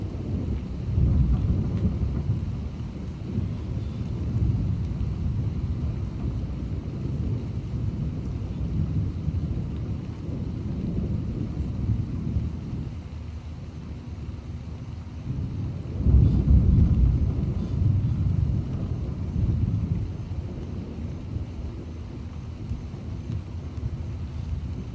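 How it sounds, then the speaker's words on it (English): Near-constant rolling thunder in an intense thunderstorm with wind and rain, long loud rumbles swelling and fading, with a heavier crack around the middle, no voices. "Man, that thunder's constant."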